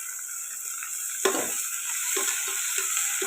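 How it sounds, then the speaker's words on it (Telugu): Onions drop into hot oil in a frying pan for a bitter gourd karam, a sudden burst of crackle followed by a steady bright sizzle with a few light utensil taps. "ఉల్లిపాయలు వేస్తున్నాను"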